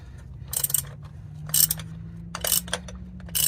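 The oil filter canister on a 2011-2016 Toyota Sienna is unscrewed with a wrench, giving several short bursts of ratcheting clicks separated by pauses over a low steady hum.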